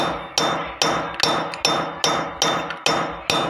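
Steady hammer blows press bricks down into place while bricklaying a wall tied to a column, with about eight sharp, evenly spaced strikes close by, each ringing briefly before the next.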